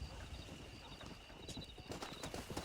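A horse in the Red Dead Redemption video game clip-clops up after being whistled for, a faint, irregular patter of hooves with a soft ambient game background.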